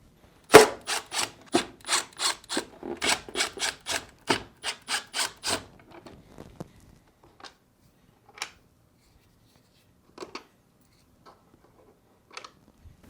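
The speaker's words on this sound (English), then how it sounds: "Using a Phillips screwdriver, remove these 4 screws holding the ice chute plate in place." A Phillips screwdriver backing screws out of the ice chute plate on a Whirlpool refrigerator, a quick run of close, rhythmic squeaky rubbing turns that slows, then a few isolated scrapes and clicks.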